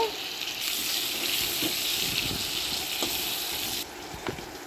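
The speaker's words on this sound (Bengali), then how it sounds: "প্রথমে আলুগুলোকে হালকা লাল করে ভেজে নেব" Potatoes fry in hot oil with a continuous close sizzle, interrupted by a few soft stirring knocks.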